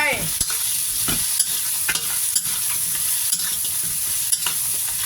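Crab and shrimp stir-fried with pepper in a hot pan, giving a loud continuous sizzle broken by repeated clacks and scrapes of the spatula, close and steady.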